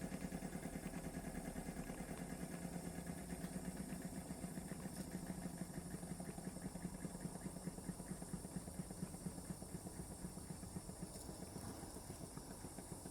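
A Wilesco D455 model steam engine runs slowly, giving a steady, quiet chuffing and mechanical ticking with a constant hiss throughout and no voices.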